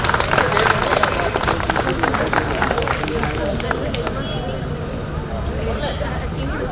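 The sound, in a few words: audience clapping at a wedding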